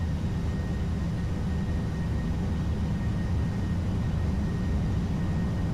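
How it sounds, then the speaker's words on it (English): Boeing 737-800 on its takeoff roll in a flight simulator, a steady broadband roar of engines and rumble that holds constant and loud for the whole stretch, with no voices. "this is going to be a long takeoff roll"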